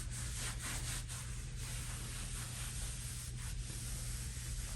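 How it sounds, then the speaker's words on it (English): Continuous abrasive rubbing of sandpaper over dried expanding foam sealing a chimney opening, a steady hiss with faint rhythmic strokes, close and unaccompanied by speech. "I'll sand up here because I wiped it down a little bit"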